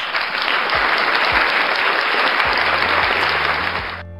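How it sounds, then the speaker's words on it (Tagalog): Loud, dense applause from a crowd of teachers and guests fills the room for about four seconds, then cuts off abruptly. "isa pang palakpak para sa ating mga teachers"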